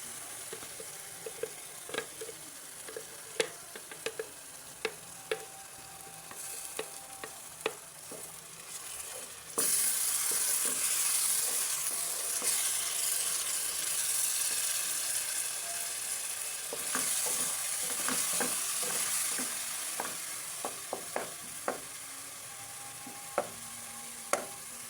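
Blended garlic, ginger and tomato paste hits a hot pan with a sudden loud sizzle that hisses steadily and slowly fades, while a utensil clinks and scrapes against the pan before and after.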